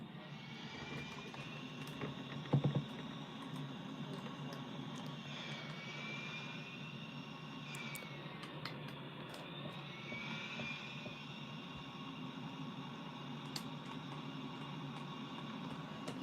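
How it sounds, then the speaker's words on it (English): Steady jet engine drone of an A-10 Warthog in a flight simulator game, a continuous even roar with a brief louder thump early on and faint clicks throughout, no talk. "It's like an A-10 Warthog."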